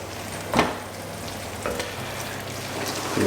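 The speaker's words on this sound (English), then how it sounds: "add, mainly to thicken the gravy, plain flour, and give that a good mix" Plain flour is being stirred into turkey gravy in a pan: a soft, hissing bubbling bed of sound, with a few brief scraping strokes rising out of it.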